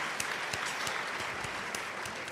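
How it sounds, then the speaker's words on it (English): Audience applause during a live podcast recording, a steady dense wash of clapping that continues throughout at moderate level, with no talking. "Can we give this man a round of applause, please?"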